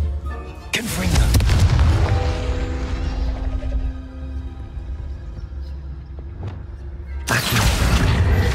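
A fire spell blasting in the video game Hogwarts Legacy, a loud deep boom with a long rumbling, ringing tail that fades, then a second sharp burst at the end, close and heavy.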